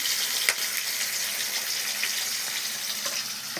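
Cumin and mustard seeds sizzle in hot oil with a soft, even hiss and a few faint pops and taps, quiet and close, with no voices.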